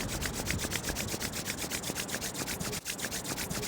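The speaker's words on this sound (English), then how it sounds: "Then rub the hands together, create some heat between your hands." Palms rub briskly together to build heat, making a steady rhythmic swishing friction sound, close and continuous, with one brief pause near the end.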